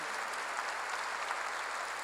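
A church congregation applauds together in steady, dense clapping that fills the clip from start to finish at an even level, with no voice over it.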